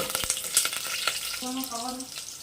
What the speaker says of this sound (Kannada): ಸ್ವಲ್ಪ ಚೆನ್ನಾಗಿ ಫ್ರೈ ಮಾಡ್ಕೊಳ್ಳೋಣ